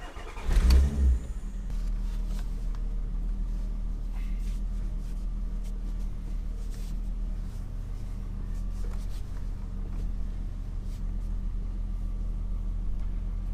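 A car drives off to test a newly fitted wheel, opening with a sharp close thump, then a steady low engine rumble and road hum from inside the cabin with faint clicks and rattles throughout.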